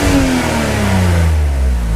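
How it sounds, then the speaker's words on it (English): Engine of a 2001 BMW Z3 3.0L coupe revving outdoors at a car auction, a loud close rev that falls away smoothly toward idle. "a couple of revs out here."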